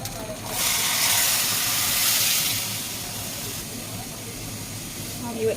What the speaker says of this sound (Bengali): আদা ভাজা হয়ে গেল, দিয়ে দিব এখন জল